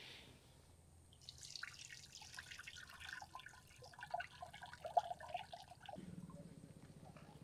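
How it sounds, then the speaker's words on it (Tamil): Quiet trickling and dripping of water being drained from cooked rice for mutton biryani, with small splashes, then a softer steady flow near the end. "இப்போ இந்த தண்ணியும் நம்ம வடிச்சுக்கலாம்."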